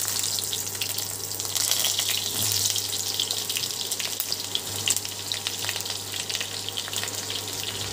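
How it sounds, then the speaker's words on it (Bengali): Green mango pieces fry in a pan after whole spices, giving a continuous dense sizzle with a low steady hum underneath and no talking. "আমি আমের যে টুকরোগুলো সেগুলোকে একটু ভেজে নেব।"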